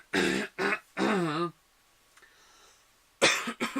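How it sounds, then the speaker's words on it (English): A person speaks briefly, then there is a quiet pause with a small throat noise, and speech starts again. "Sorry, clearing my throat, getting ready."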